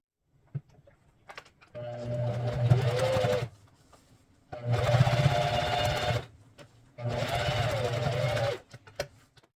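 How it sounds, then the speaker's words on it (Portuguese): A sewing machine topstitches a seam on a fabric multipurpose wallet in three steady, close whirring runs of about two seconds each, separated by brief quiet gaps with small clicks. "Vou colocar o meu interno para trás e vou fazer uma costura de pesponto."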